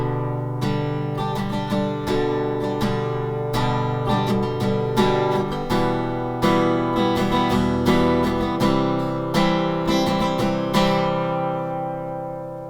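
Acoustic guitar strummed in a steady pattern for the pre-chorus of a song: pairs of full down strums with quicker up-down-up strokes between them, chords ringing continuously and moving through a progression, close and clear with no voices.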